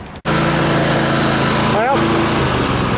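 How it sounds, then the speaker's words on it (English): A small engine idles steadily at close range, a continuous low rumble with a faint whine, while someone talks over it briefly at the start. "see, this one idles like it's supposed to"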